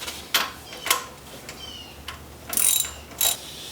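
A hand ratchet working a crankshaft bolt on a Ford Ranger engine in a garage, several sharp clicking strokes spaced out, close and clear, with a quick double burst near the end.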